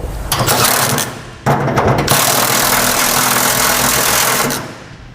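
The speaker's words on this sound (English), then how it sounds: "We can drive the nut up with the socket until it's flush with the bottom of the U-bolt" A socket, likely on a power tool, drives a lock nut up the U-bolt of a Curt underbed gooseneck trailer hitch beneath a Ram 2500, giving a loud, steady mechanical whir that briefly dips and restarts before fading out.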